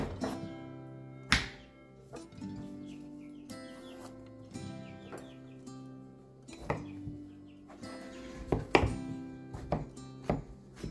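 A knife trims the ends off a zucchini and peels it on a cutting board, giving several sharp chopping thunks at irregular intervals with softer scraping strokes between them, close and fairly clear, with no talking.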